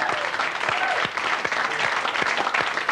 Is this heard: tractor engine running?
no